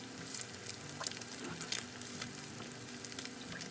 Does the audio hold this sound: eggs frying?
yes